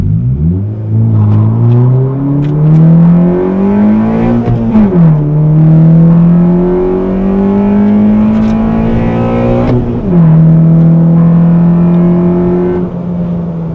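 A K24-swapped Honda Fit accelerating hard on a timed run, the engine note climbing steadily through the revs in three long pulls separated by quick drops at the gear shifts, loud and close with no talking.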